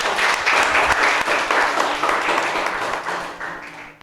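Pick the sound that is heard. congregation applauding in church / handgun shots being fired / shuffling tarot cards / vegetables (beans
congregation applauding in church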